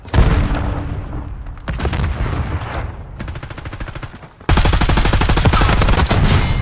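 A Semtex grenade blast and rapid automatic gunfire fill a Call of Duty Black Ops 6 multiplayer match. Loud bursts of shots come in quick rhythmic volleys, then a sudden booming surge of heavy fire takes over for the final seconds.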